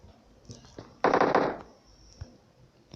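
Automatic gunfire from the PUBG Mobile battle royale game, a loud rapid burst lasting about half a second amid quieter game sounds and faint background noise.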